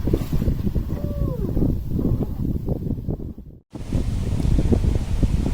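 Wind buffets a Force 50 sailboat at sea around midnight, a loud gusting rumble against the microphone with water rushing beneath, dropping out briefly midway before resuming.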